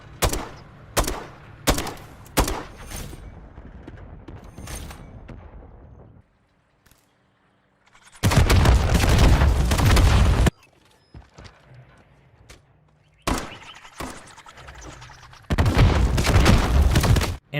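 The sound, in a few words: grenade launcher tube shots in Modern Warfare III video game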